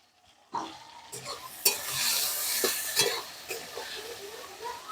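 Chicken skin seasoned with salt and turmeric frying in a pan, a steady close sizzle with scraping stirs and a few sharp clinks of a utensil against the pan, starting after a brief quiet moment.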